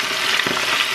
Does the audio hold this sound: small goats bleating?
no